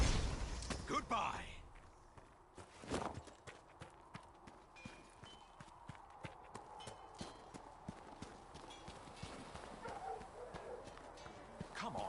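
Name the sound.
horses' hooves clip-clopping in Dragon Age Inquisition video game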